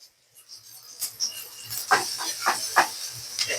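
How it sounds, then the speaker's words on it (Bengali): Onions frying in a little oil in a home kitchen, giving a soft, steady sizzling hiss with irregular pops and crackles, close by and fairly quiet. "পেঁয়াজ গুলাকে বাদামি করানো হচ্ছে।"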